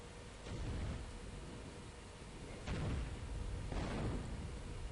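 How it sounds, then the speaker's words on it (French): Fireworks going off in a war video game: three dull, distant booms spaced about a second or two apart, rolling and thunder-like over a steady wash of background noise. "Hop, des feux d'artifice."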